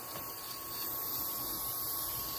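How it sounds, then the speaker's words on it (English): A spray gun lays a finish coat onto a pine wood tabletop with a continuous, even hissing, heard close and fairly quiet, with no talk. "So I'm just spraying. I'm going to do like 3 or 4 coats on this."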